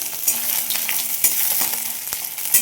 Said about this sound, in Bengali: পেঁয়াজ সম্বার বলতে পেঁয়াজটা ভাজছি